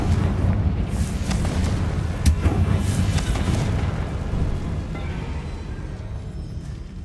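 Confringo fire spell from Hogwarts Legacy bursting in a dense, rumbling explosion, with a sharper blast midway and a sustained low roar that slowly fades.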